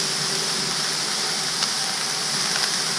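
Sliced peppers and onions cooking in a pan until soft, a steady, fairly loud sizzle and hiss running throughout with no talking.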